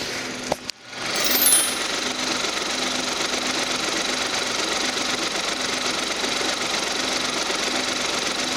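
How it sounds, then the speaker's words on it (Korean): A Kia Morning engine with low mileage idles steadily and evenly close by under an open bonnet, a continuous mechanical hum with a faint rapid ticking, preceded by a brief clunk at the start. "모닝 차량의 엔진 소리까지 한번 들어봤는데요"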